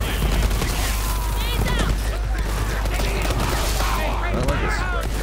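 A player's gun in Borderlands 3 fires in dense rapid bursts alongside mechanical clatter and game effects, while a voice talks over the shooting.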